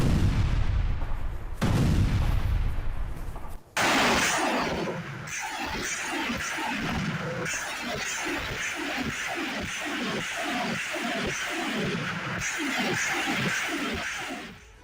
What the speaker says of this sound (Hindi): रूसी सेना का MLRS से भीषण हमले में यूक्रेन की आर्टिलरी यूनिट खत्म हो गई।